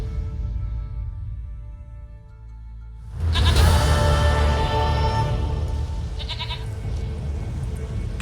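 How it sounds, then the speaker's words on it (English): Goat bleats in The Witcher 3 video game, a loud burst starting partway through over steady game ambience, with a short repeated cry near the end. "Goat of mine, dearest, sweetest goat."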